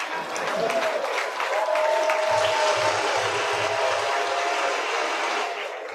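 Audience applause at a formal science and technology event fills the room: a steady spread of clapping under a low rhythmic hum, fading out at the end.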